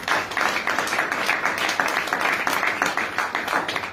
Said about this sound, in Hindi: बस ताली की आवाज थोड़ी आ रही है